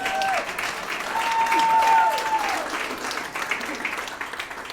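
A stand-up comedy audience claps in a sustained burst with a few whistles, swelling and then thinning slightly toward the end.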